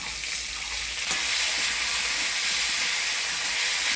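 Okra tossed into hot tempered oil with potatoes, giving a loud, steady, close frying sizzle that surges and holds without letting up.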